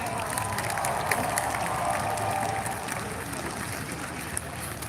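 An outdoor Canada Day crowd in Ottawa applauds Olympic and Paralympic athletes, a broad, steady wash of distant clapping and crowd noise with a few sharper claps standing out.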